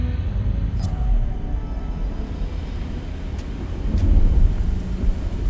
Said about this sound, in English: We need to make it rain.